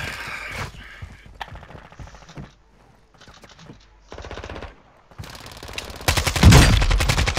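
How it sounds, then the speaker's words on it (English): Call of Duty DMZ firefight in Vondel, with bursts of automatic gunfire and scattered single shots separated by short gaps, ending in a loud, close, sustained volley. "You are taking effective fire"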